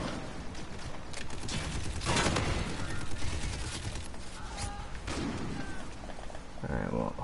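Gunfire in Call of Duty: Infinite Warfare video game play, dense rattling automatic shots and thumps running throughout, mixed with game effects and a player's voice.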